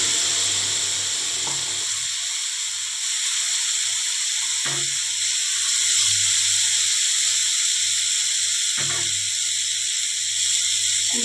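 Ground spice paste sizzles in hot oil in a pan, a steady hiss with a few soft clicks and stirring knocks, no talk over it.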